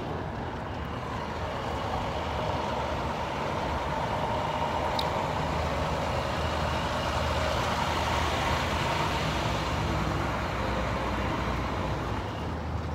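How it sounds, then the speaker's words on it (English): A big power company utility truck engine rumbles in the desert morning, a steady, broad droning hum that holds at an even, moderate level with no voices. "I hear a big truck."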